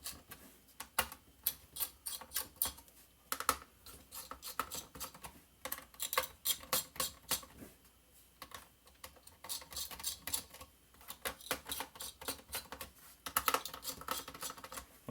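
Small screws being backed out of the processor heatsink on a Lenovo ThinkPad T430 laptop, heard as close, rapid clicky ticking in irregular bursts with short pauses and no talk.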